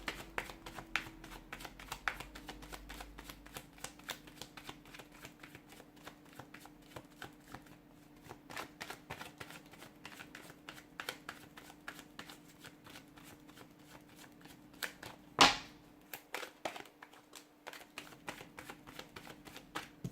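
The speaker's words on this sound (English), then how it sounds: "I've put those cards back in the deck because I just don't feel like those were your cards." A tarot deck being shuffled by hand, cards riffling and tapping in a long, continuous run of soft close clicks with one sharper knock partway through.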